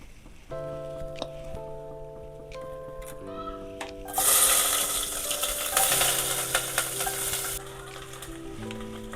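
Onions hit hot oil in a pan for biryani and burst into a loud, steady sizzle partway through, after a quieter stretch, with soft background music throughout.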